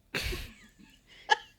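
A single person's sneeze, close and fairly loud, a sharp breathy burst followed by a brief high squeak, in a quiet room.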